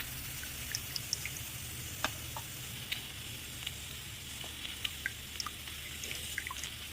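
Soaked tamarind pulp cooks in a pan, giving a soft steady bubbling simmer with scattered small pops and spits over a low background hum.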